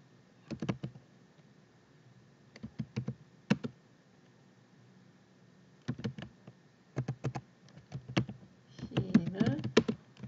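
Bursts of computer keyboard typing, short clusters of key clicks with pauses between, close and clear, while entering text into a Naver email, with faint murmuring near the end.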